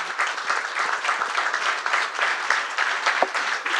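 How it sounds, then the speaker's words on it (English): An audience at a student panel on responding to racism claps in steady, dense applause that fills the room for nearly four seconds without a break. "can we get a round of applause for him real quick?"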